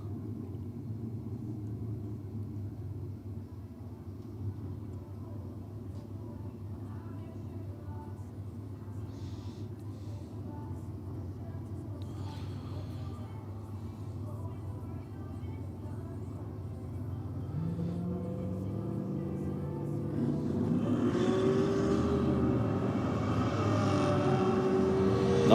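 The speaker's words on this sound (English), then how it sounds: "Solid burnout from the Camaro, sounding crisp." A Camaro drag car does a burnout and launches at a race track: a steady loud engine rumble and roar that builds and climbs in pitch toward the end, with faint voices in the background.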